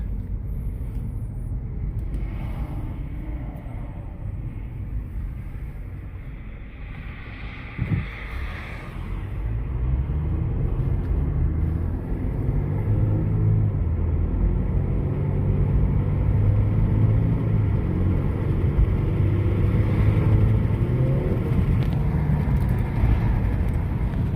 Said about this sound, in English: let's go for a test drive and see how it works.